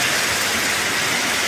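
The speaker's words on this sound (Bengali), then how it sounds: "টিনের চালে বৃষ্টি পড়ছে রিমঝিমিয়ে, চমৎকার লাগছে।" Steady rain patters on a tin roof as an even, dense hiss at close range, continuous and unbroken, with no voices.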